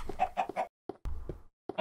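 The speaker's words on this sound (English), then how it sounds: "all the chickens live on my bed" Blocky game chickens cluck in a few short bursts, with a pause and then more clucks, close and moderately loud with no talk.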